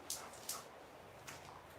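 A dog whimpers and yips softly in a quiet room during a yoga session, a few short high whines repeating at intervals, faint and somewhat distant.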